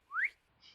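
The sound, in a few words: whistle sound effect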